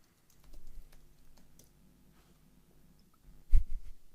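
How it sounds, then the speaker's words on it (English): Computer keyboard typing sounds as quiet scattered clicks, then a brief louder flurry of keystrokes near the end. "every time I interrupt you, we go crazy on his typing"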